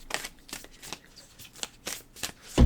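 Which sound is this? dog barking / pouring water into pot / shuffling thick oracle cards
shuffling thick oracle cards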